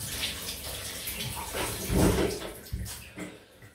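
Water running from a tap to rinse after a shave with a double-edge safety razor, a steady splashing flow with brief louder gushes and splatters, close by.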